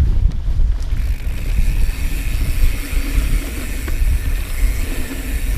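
Gusty wind buffets the microphone on a rocky ridge trail above Laguna Beach, Southern California, during a mountain bike ride, a loud continuous rumble that rises and falls with no voices.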